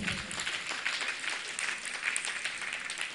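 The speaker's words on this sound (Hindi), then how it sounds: "एक बार अपने संस्कारों के लिए तालियां बजाइए।" An audience at a Jain religious discourse in Jaipur claps in sustained applause, a dense, even patter of many hands from a crowd, moderately distant and fairly soft, steady throughout.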